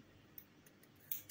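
Scissors snip through yarn on a crocheted amigurumi plush rabbit, giving a few quiet, crisp snips with the sharpest cuts near the end, over a faint, near-silent background.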